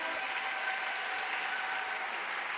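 A congregation at a Christian crusade in Douala bursts into applause and acclamation, a steady, even wash of many hands clapping at moderate volume without a break.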